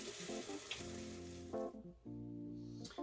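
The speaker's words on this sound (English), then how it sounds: "I like the sound of that sizzle." Waffle batter sizzles in olive oil on a hot waffle iron, a steady broadband hiss that fades partway through, with tonal background music playing throughout.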